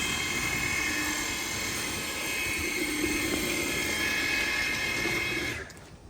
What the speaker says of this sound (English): we are mixing up premium base coats